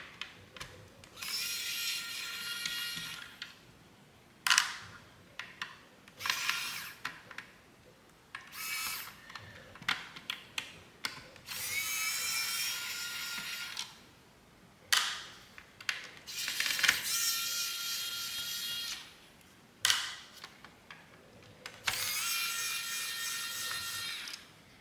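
Electric screwdriver whirring in repeated short bursts as screws are backed out of an Audi C7 center console, close and clear with small clicks and pauses between each screw.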